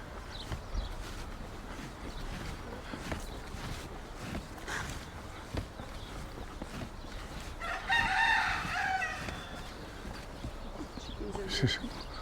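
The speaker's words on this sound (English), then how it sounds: "This is wild chickens." Wild chickens on Mallorca, with one rooster crowing loudly near the middle over a soft outdoor background of rustling and faint footsteps, and a few scattered clucks and calls around it.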